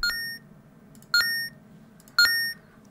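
A Unity game's point-scoring sound for clearing an obstacle: three short electronic chimes, evenly spaced about a second apart, each a bright tone with a brief ringing tail over quiet background hiss.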